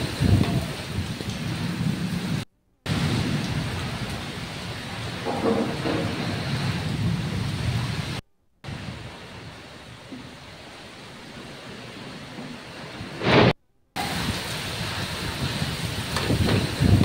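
Heavy rain pours steadily in a downpour across Telugu-speaking regions, with rumbles of thunder rolling beneath it, loud and continuous apart from brief dropouts.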